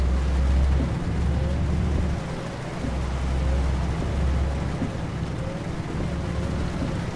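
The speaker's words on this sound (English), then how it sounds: "it just keeps on raining" Steady rain in the video game Euro Truck Simulator 2 hisses continuously with a low rumbling undertone, moderately loud and unbroken, with no voices.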